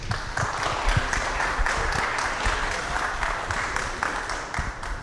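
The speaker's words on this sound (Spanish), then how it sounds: "vamos a darle la bienvenida a Robert con un fuerte aplauso." An audience at a software talk gives a dense, steady burst of applause, many hands clapping together at moderate loudness with no pauses.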